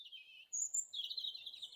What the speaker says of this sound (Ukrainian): Кого ми чуємо? Так, пташок.